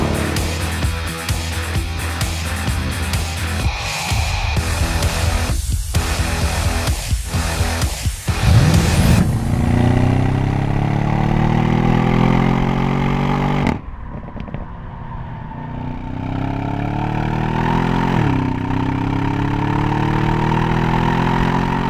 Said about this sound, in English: something you can't get in that Tesla of yours, and that's this excellent V8 engine note